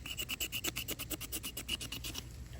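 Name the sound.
scraping bark down to the wood to air layer a peach tree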